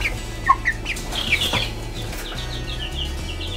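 Eight-week-old Marans chickens cluck and chirp in short, scattered calls over a low steady background hum, with a brief flutter of wings partway through.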